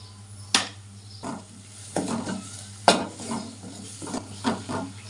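A spoon stirs egg curry mixture in a pan, with ginger paste in the mix. Several distinct scraping strokes clack against the pan at an uneven pace over a soft, steady sizzle of oil, close and moderately loud, with no voices.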